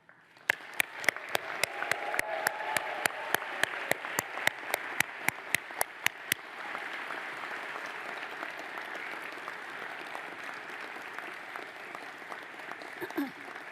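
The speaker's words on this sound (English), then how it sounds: "you've done very well as well with the clapping and the cheering" Graduation ceremony audience at Strathclyde Business School applauding loudly and steadily, with a few sharp individual claps standing out in the first half, then continuing as dense, even clapping and cheering throughout.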